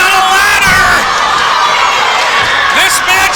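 Wrestling crowd at a violent ladder match roars and cheers loudly, with shouts and whoops rising over a dense, continuous wall of noise.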